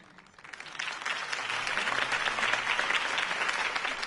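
Crowd applause in the Batman Telltale video game, rising from a quiet start into steady, dense clapping from a large audience after a campaign rally speech, sustained and moderately loud throughout.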